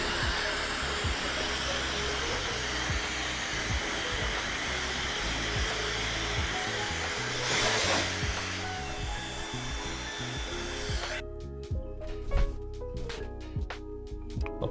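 A hair dryer blows steadily at a barber shop while hair is dried, a continuous close-up whoosh with a slight swell in the middle, then its higher hiss drops away and only a quieter low hum and scattered clicks remain.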